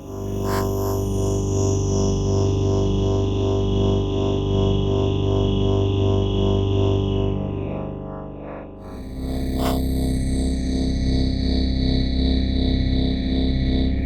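A Waldorf Microwave wavetable synthesizer plugin plays sustained, bright digital chords with a gritty, distorted edge. One held tone is followed by a brief dip, then a new chord with a sharp attack.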